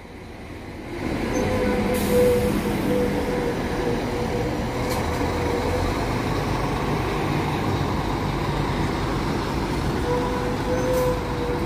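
A Marcopolo New G7 coach (Guerino 600) pulls into a busy bus station, its diesel engine rumbling steadily and close with a faint squeal of brakes and a few sharp clicks, no talk heard.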